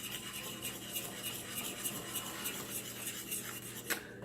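A whisk scrapes and rubs steadily through gravy in a pan while cooking country fried steak, a continuous close scratchy stirring with small clinks against the metal, no talking.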